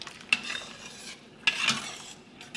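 A utensil stirs pasta in a pot of water, giving two brief scraping, clinking strokes against the pot with soft swishing between them, close and fairly quiet with no talk.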